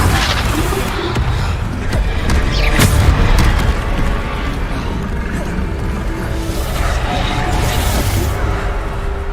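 Booming explosive blasts and crashes from the Bombarda spell in Hogwarts Legacy, loud and dense, mixed with game combat noise throughout.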